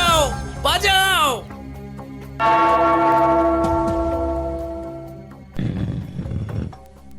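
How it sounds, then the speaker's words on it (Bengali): A large bell is struck and rings out loudly, its bright metallic tone decaying slowly over several seconds. A voice speaks briefly before it, and another voice comes in near the end. "ওই ঘন্টাটা বাজাও, বাজাও"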